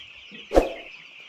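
A single short cluck from a chicken over a faint, thin background of chirping from about 1,500 chicks on a broiler farm, close by and brief.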